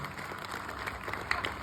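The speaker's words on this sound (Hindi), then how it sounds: "मैं चाहता हूं पूरा सदन उसके सम्मान में तालियां बजाए।" Sustained audience clapping at an outdoor Hindi poetry gathering (kavi sammelan) in Jhabua, steady and moderately loud, with a faint tonal hum running underneath.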